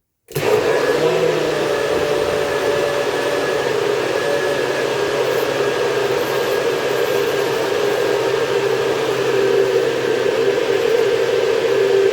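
A blender whirs hazelnuts and water into nut milk, starting abruptly and then holding a loud, steady, high-pitched motor whine with a churning rush beneath for the whole stretch.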